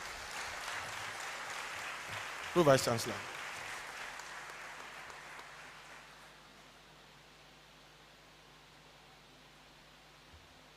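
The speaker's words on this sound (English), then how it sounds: "I want to hear you clap for me." Audience clapping in a great hall at a university congregation ceremony, a soft diffuse wash of applause that dies away after a few seconds, broken by a brief spoken phrase, then quiet room tone.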